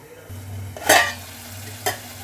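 Soaked soya chunks tossed into hot oil in a frying pan for a meal maker curry, a low steady sizzle broken by two sharp scraping stirs of a spoon against the pan.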